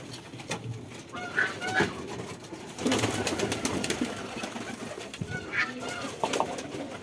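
Desi and Giribaj pigeons coo on a house rooftop, soft repeated throaty calls close by, with wing flutters and faint background noise between the coos.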